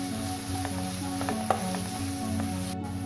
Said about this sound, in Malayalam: ഇത് നന്നായിട്ടൊന്ന് വഴറ്റിയെടുക്കുക.